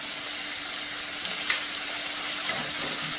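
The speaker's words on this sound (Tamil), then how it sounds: "நல்லா பச்சை வாடை போகிற வரைக்கும் நல்லா வதக்கணும்" Onions with ginger-garlic paste sautéing in a pan for paneer masala, giving a steady, close, continuous sizzle and frying hiss with faint stirring and no talk.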